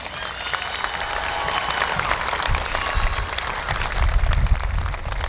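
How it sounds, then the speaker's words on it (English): Applause from the audience at a high school graduation ceremony, a sustained crowd clapping in a large space with low rumbling thumps underneath, growing slightly louder toward the end. "Give these people a round of applause."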